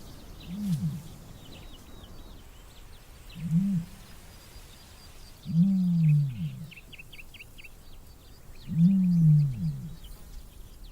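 A male ostrich calls, giving four deep, low booming grunts spaced a few seconds apart, each rising and falling and growing longer and louder, over a faint background of small bird chirps.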